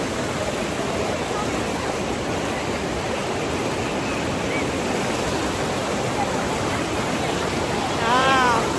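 Hogenakkal waterfalls on the Kaveri river roar steadily and loudly, a dense continuous rush of falling water heard up close, with a brief tonal sound near the end.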